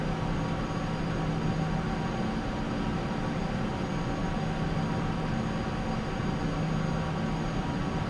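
A jet airliner's takeoff roll in the video game Microsoft Flight Simulator X: a continuous, steady roar of engine and rushing noise, unbroken and even for several seconds with no talking.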